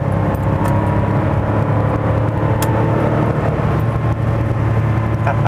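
A 1989 Porsche 911 Carrera engine drones steadily from inside the cabin while driving, a loud continuous low rumble with engine whir and no clear break across the gear change.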